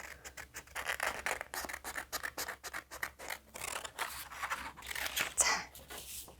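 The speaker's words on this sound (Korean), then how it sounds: "이렇게 따라 그린 캥거루를 가위로 오려줄 거예요." Scissors snip steadily through paper, cutting out a drawn mother and baby kangaroo for a picture-book craft, with a rapid, close scratchy rhythm of many short cuts.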